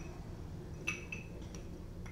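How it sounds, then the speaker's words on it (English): Two glasses of Crown Royal bourbon clinking together in a toast, a couple of light bright chinks, faint over a low room hum. "Clink them and drink them."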